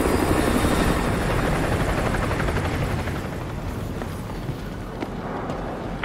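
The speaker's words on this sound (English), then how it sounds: "Enemy helo patrolling the perimeter" An enemy helicopter patrols and approaches in Call of Duty Modern Warfare 2: a loud, steady rotor roar with a dense beating wash that holds throughout and eases slightly toward the end.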